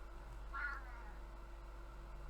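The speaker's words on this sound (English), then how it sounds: "What are you whining at, cat?" A house cat gives one short, whiny meow that rises briefly before fading, faint against a steady low electrical hum, with no talking.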